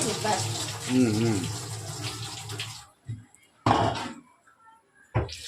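Tap water gushes in short bursts while garlic and lentils are rinsed in a home kitchen, with a spoken voice over the opening seconds, then two brief splashing surges.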